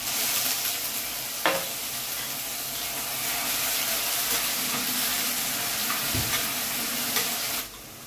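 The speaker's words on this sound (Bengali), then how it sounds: "2 চামচ পেঁয়াজ বাটা দিয়ে দেবো।" Onion paste frying in hot oil in a kadai with cloves, cardamom and cinnamon, a steady close hiss of sizzling that runs throughout, with a couple of brief clinks of a spoon against the pan.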